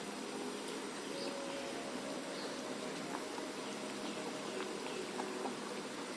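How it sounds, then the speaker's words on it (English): Pav bhaji vegetables boil in water inside a cooker, giving a faint, steady bubbling hiss with a low hum and no voices. "This has come to a boil."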